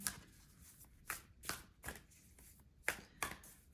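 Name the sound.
shuffling oracle cards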